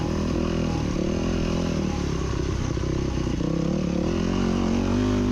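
A motorcycle climbs a rocky, overgrown abandoned trail toward Crown King, its engine droning loud and close throughout with revving surges and the clatter and scrape of tires over boulders.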